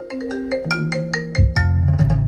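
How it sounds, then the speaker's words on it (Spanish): A phone rings at a mobile phone company with a melodic electronic tone, a quick repeating pattern of bright notes, close and clear. "suena el teléfono en la empresa de telefonía celular."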